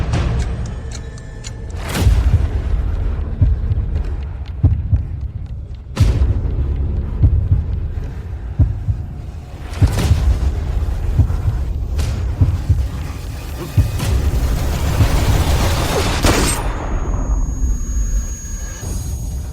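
Several sharp, loud shots ring out at intervals of a few seconds, each a sudden crack over a low rumbling background with music-like tones.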